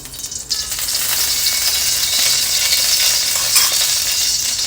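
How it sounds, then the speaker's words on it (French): Oil heats in a wok and sizzles with a steady, loud crackle that lasts throughout, while it is being prepared for frying spring rolls. "On va donc faire chauffer un petit peu d'huile."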